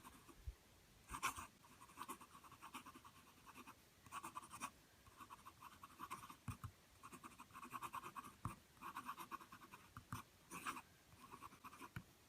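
Nib of an Omas 360 triangular fountain pen scratching across paper, soft close strokes in quick bursts with brief pauses between words, faint and steady with no talk.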